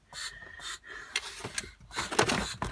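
A long sanding board with sandpaper is pushed over auto body work, giving close, breathy rasping strokes in uneven bursts, with no talking.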